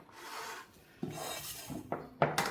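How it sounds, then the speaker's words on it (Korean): Flour sifted through a sieve bowl in a home kitchen gives soft rasping, scraping strokes, a few short passes that grow slightly louder toward the end, heard alone without talk. "한번 채를 쳐주실 거예요. 채볼에다"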